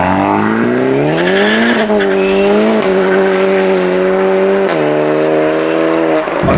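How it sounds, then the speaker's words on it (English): A tuned VW Mk8 Golf GTI Clubsport accelerates hard under load, its engine note rising steadily then dropping sharply at two gear changes, with a loud, close exhaust throughout and no talk. "if you load it up, it makes a real nice crack on gear changes"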